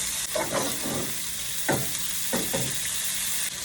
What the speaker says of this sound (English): So I'm just gonna go ahead and flip all the meatballs